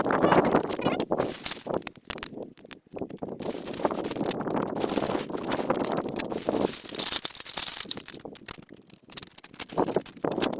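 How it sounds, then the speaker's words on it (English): Strong wind gusting outdoors, rumbling and buffeting a microphone in uneven surges with brief lulls, loud and continuous with no talking. "it is way too windy out here"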